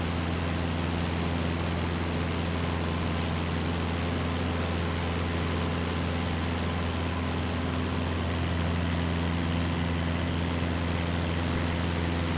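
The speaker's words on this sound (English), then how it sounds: "If the engine's too loud" A propeller aircraft engine in the MSFS 2024 flight simulator climbing toward 2,000 feet drones as a steady, loud, unbroken hum with a hissing rush layered over it, continuous and without speech.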